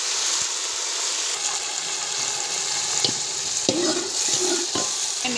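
Tomatoes sizzle and fry in a pan for beef pulao, with a steady hiss of hot oil and a few sharp stirring clatters near the end, close and moderately loud with no talking.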